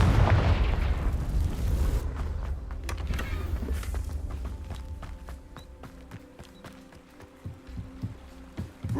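A blast spell from Hogwarts Legacy goes off with a loud burst and broad rumbling decay, followed by scattered crackles and sharp impacts and a low steady hum beneath.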